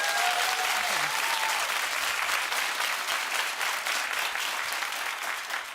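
Studio audience on a daytime talk show breaking into loud, sustained clapping that fills the room and holds steady to the end with no voices over it.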